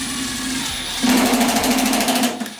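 Milwaukee impact drill driving a screw into thick sheet-metal ductwork, a steady whir that turns into a louder, rapid hammering rattle for about a second and a half before winding down, close and without speech.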